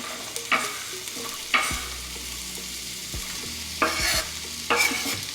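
Onion and jalapeno frying with garlic in a pan: steady soft sizzling broken by several sharp scraping stir strokes spaced a second or two apart, close and fairly loud, no voices.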